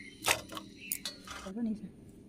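Knife cutting through firm chalta (elephant apple) pieces for pickle, a few sharp clicking chops against a board in quick succession, close and moderately loud, with faint talk in the background.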